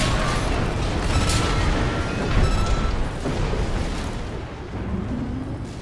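Rolling explosions and booming blasts from mech combat in the video game Armored Core VI, a dense, continuous roar of bursts and rumble with sharper pops layered on top, loud and sustained throughout.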